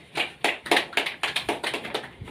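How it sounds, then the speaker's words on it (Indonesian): Classroom applause for a student group's answer, roughly a dozen sharp claps landing in a quick, fairly regular rhythm from a small group of people, moderately loud and close by, with no voices over it. "Kita berikan tepuk tangan untuk jawaban dari kelompok 1."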